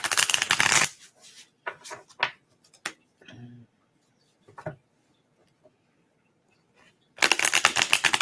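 Tarot cards shuffled in two loud riffling bursts, one at the start and one at the end, with quieter card handling and faint taps in between.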